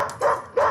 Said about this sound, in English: we have a very aggressive dog on our hands